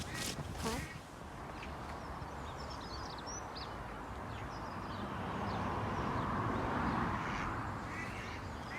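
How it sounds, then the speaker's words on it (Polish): Ducks quack in scattered calls outdoors, a few loud nearby bursts early on over steady wind and ambient outdoor noise, with the quacking continuing more faintly in the background. "O, są kaczki."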